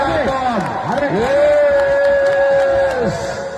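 A crowd applauds and cheers at a Town Team Kuthuparamba football match, a continuous roar under a loud announcer talking excitedly over it.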